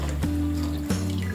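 Water pours into a large vessel to boil for rice, producing a close, resonant filling sound with sustained ringing tones that shift in steps as the level rises.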